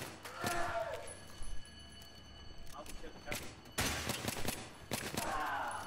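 Gunfire in the Battlefield 3 video game: a few sharp shots and short bursts ring out at intervals, some loud and close, mixed with game noise, while people talk over it.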